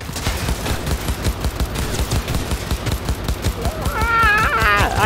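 Rapid automatic gunfire in the video game Cyberpunk 2077, loud and continuous close bursts in a fast rhythm, with brief voice-like wails rising near the end.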